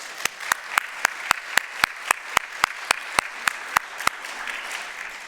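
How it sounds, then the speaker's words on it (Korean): Clapping rings out in a church after an elderly pastor's solo, heard as crisp, evenly spaced claps at a steady beat of about four per second. It is fairly close and clear, then stops near the end. "박수 한번 보내세요."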